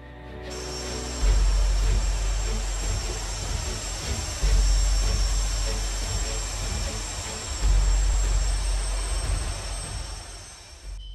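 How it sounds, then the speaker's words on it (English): Mirage 2000-5 fighter jet engine roaring steadily as the aircraft scrambles, a broad continuous rumble with a high whine, swelling louder in three surges; a voice talks faintly underneath. "The Mirage 2000-5 is one of France's advanced fighter aircraft"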